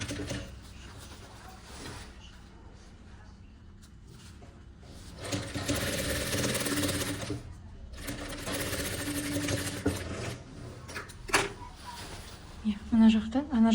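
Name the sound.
sewing machine stitching a lined vest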